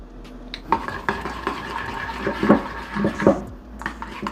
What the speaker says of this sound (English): Mix it all in.